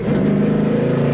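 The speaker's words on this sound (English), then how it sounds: "Definitely burnt rubber in second gear" A 1966 Ford Fairlane 500 two-door hardtop pulls hard in second gear while burning rubber, its loud, steady engine drone close and continuous with no talk.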